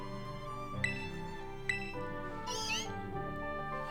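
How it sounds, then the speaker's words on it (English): Meowth's cry in the video game Pokemon Violet, a clear cat-like meow over game music with two sharp chimes and a warbling squeal. "We got a Meowth."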